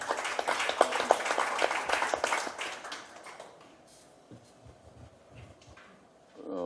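A scattered round of clapping from a small audience fades out after a few seconds, followed by quiet room noise.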